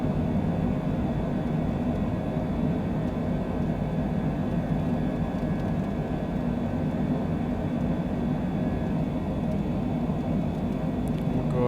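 Steady, broad engine roar of a Citation Longitude business jet climbing out after takeoff in MSFS 2020, a continuous even rumble with no talk over it.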